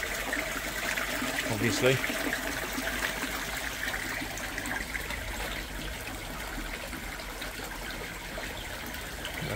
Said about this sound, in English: That's going in straight out the tap.